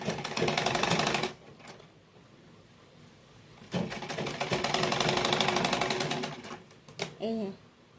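An electric sewing machine runs a stitching line along the zip edge of a kurti in fast rattling bursts separated by pauses, close and fairly loud, with a short voice near the end.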